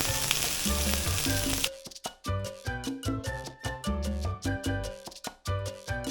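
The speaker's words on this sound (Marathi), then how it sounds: "आत्ता तव्यावर उतरले कांदा. पहिला कांदा भाजून घ्यायचा आहे." Onion roasting on a hot griddle (tava) during masala preparation for a Nashik-style mutton curry, giving a dense continuous sizzle that gives way to rhythmic scraping and stirring strikes; no voices.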